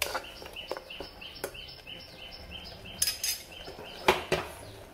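Mutton gravy with onion and tomato being stirred in a pot: intermittent metallic scrapes and clinks of a spoon against the pot, with a couple of sharper knocks near the end over a quiet kitchen background.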